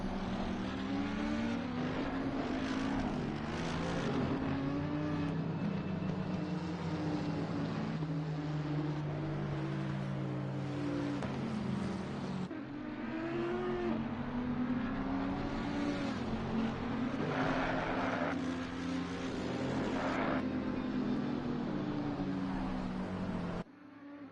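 Race cars in Assetto Corsa Competizione thunder off the start at Suzuka, a dense, continuous roar of several engines rising and shifting pitch together, loud and close throughout with no talk over it.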